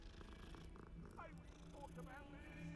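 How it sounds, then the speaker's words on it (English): A cat purrs while being petted in Hogwarts Legacy, a soft continuous rumbling purr with faint meows, quiet and low in level alongside game sounds. "We are petting Le Cat."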